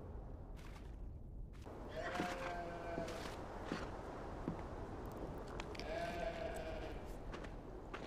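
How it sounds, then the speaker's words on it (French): Sheep bleat on a farm, a few drawn-out calls at middle distance rising over a faint, steady outdoor background, with no speech. "Les moutons ont besoin d'eau."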